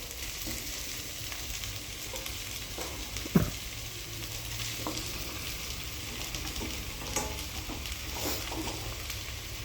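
Andhra-style mutton curry mixture with onions and green chillies stirred and fried in a pan: a faint, steady sizzle with soft, occasional stirring scrapes and one brief sharp clink, with no voices.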